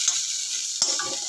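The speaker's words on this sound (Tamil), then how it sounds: "2 தக்காளி சேர்த்து தக்காளி நல்லா வதங்கணும்." Ripe tomatoes sauté in a pan for tomato chutney, giving a soft, steady sizzle with one short scrape of a spoon partway through.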